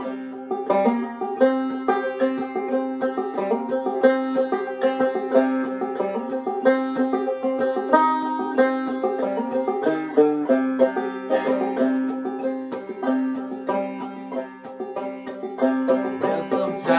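Clawhammer banjo plays an intro to a song, a steady, bright rhythmic strum-and-pluck pattern with ringing notes, close and alone.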